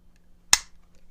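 A single sharp metallic click as the steel slide of a matte stainless CZ 75 B pistol is slid back onto the frame, close and brief against near silence.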